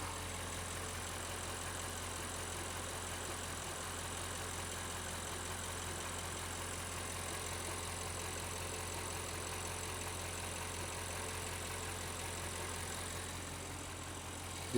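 Audi 4.0 T V8 engine idling after a spark plug job, a steady even running hum with a busy ticking valve train, constant and close, no talk.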